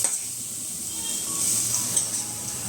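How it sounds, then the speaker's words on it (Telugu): Pre-cooked raw banana fry is stirred into hot spices in an iron pan, giving a continuous close sizzle with soft scraping and stirring throughout. "ఇప్పుడు ఈ అరటికాయ ఫ్రై ఆల్రెడీ ఉడికించినది మనము దీంట్లో వేసి మిక్స్ చేసుకుందాము."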